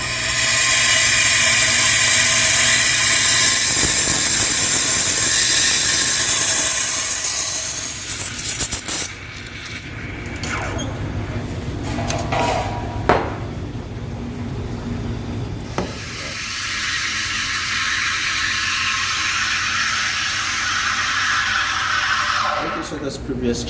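Espresso machine steam wand frothing milk in a pitcher, a loud continuous hiss that shifts in tone as air is drawn in and stops and restarts midway, with a voice talking over parts of it.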